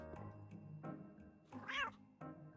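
A cat in a Linux horror video game meows several times in close succession, with one longer, rising and falling cry in the middle, all at low volume and with no talking.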